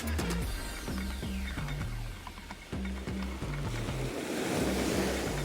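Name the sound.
gentle waves on the shore at Cromer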